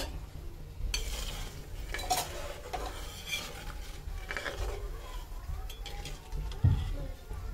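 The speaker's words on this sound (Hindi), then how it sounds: "चीनी भी इसी में डाल देंगे दूध में इसको अच्छे से चलाएंगे" A spoon stirs sugar into milk in a metal pot while making sewai, giving repeated scraping strokes and light clinks against the pot in an irregular rhythm, close and moderately loud.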